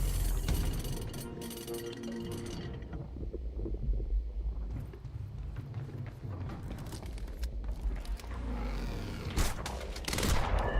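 Gunfire in the video game Quantum Break on a rooftop: bursts of shots and clattering impacts scattered through a dense, loud mix of mechanical noise and debris, with no clear talk.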